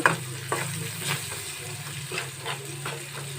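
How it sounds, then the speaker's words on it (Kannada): Chopped tomatoes with salt sizzle steadily in a hot pan for a dal tadka, with soft intermittent scraping and stirring strokes over a continuous frying hiss, close and moderately loud, no voices. "ಹಾಕ್ಬಿಟ್ಟು ಈ ಥರ ಒಂದು ಫ್ರೈ ಕೊಡಿ ಈ ಥರ ಬಾಡಿಸ್ಕೋಬೇಕು"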